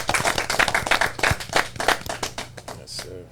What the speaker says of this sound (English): Make some noise. Clap it up.